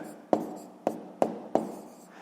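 Handwriting during a 6th-grade maths exercise: four sharp, separate pen or chalk strokes tap out at uneven intervals, each fading quickly, close and fairly quiet with no talking.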